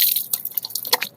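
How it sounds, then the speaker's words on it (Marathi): Water dripping and splashing from hands and face during face washing with water from a tub, a close run of quick irregular drips and small splashes. "आता धुतो चेहरा मस्तपैकी. या टपात आहे पाणी सकाळी भरलेले"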